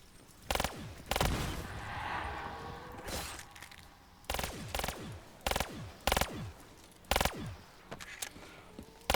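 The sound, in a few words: RK5 gunfire in a video game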